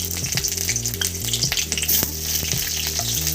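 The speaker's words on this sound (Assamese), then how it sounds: "ইয়াত তেল গৰম হ'ল। এতিয়া মই তেল গৰমখিনি হৈ গ'ল। এতিয়া মই এয়া পিঁয়াজ কাটি লোৱা পিঁয়াজটো দি দিছোঁ" Chopped onion hisses and crackles as it hits hot oil in a pan, a loud, close, steady sizzle with stirring over a low, stepping tonal background.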